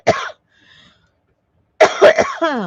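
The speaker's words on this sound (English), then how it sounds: "Sorry, I'm coughing at you as you come in." Short burst of coughing at the start, then a quiet gap and a harsher cough with throat clearing that runs into speech, heard up close indoors.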